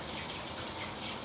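A 1,000-gallon-a-minute fountain pump pushes strong water into a sluice box on a gold claim, making a dense, even rushing splash that fills the short stretch, close and steady.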